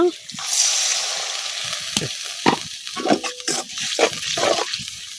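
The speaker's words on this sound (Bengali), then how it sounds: "পেঁয়াজ রসুনটা হালকা ভাজা হয়ে গেছে" Lightly fried onion and garlic in a pan, a loud sizzle and hiss with spatula scrapes and knocks, with brief talking near the start.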